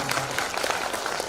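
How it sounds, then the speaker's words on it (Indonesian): Brief burst of audience applause at a symposium session, moderately faint and dense, lasting only a moment with no talk over it. "Tepuk tangan dong"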